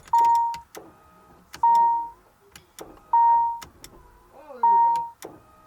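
A rough Nissan 300ZX that has sat unused for a few years cranks over in four separate bursts, each a loud electrical whirring grind with a sharp onset. Quiet pauses fall between the bursts, and there is no talking.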